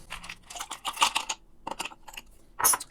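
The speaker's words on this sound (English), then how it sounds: "Fill your glass with ice." Ice cubes drop into a cocktail glass already holding mint leaves and rum for a cinnamon mojito, making a rapid series of sharp clinks and rattles. The cubes tumble irregularly with a louder cluster at the end, close by and with no talking.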